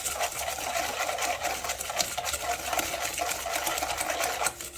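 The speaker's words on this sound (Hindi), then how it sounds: "अब इसको मैं हैंड मिक्सर से करूँगी इसी तरह से ही।" A hand mixer whips dalgona coffee in a steady, continuous mechanical whir with a rattling texture that keeps going without pause, loud and close.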